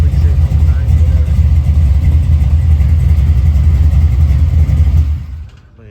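A big block Chevy V8 on 28-inch wheels runs loud and steady at close range, a deep continuous rumble with slight revving surges, before cutting off near the end and leaving quiet.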